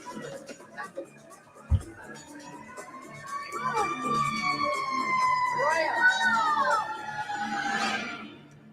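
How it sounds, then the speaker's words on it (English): A police siren wails as it passes, rising and falling tones that swell to a peak in the middle and then fade, heard fairly clearly with a faint background rumble. "So a police siren goes by and everybody starts to panic."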